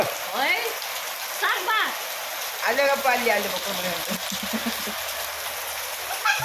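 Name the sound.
rain falling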